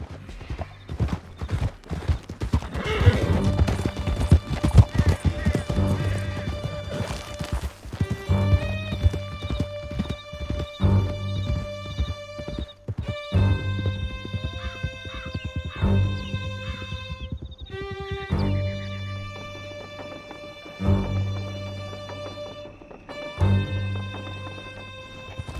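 Horses galloping in Red Dead Redemption 2, a steady loud clip-clop of hooves with occasional whinnies over a throbbing musical score, close and continuous.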